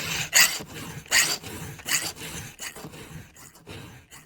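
A file rasps across a chainsaw chain tooth in repeated strokes, several loud close passes at a steady rhythm, then lighter scraping as the angle is checked.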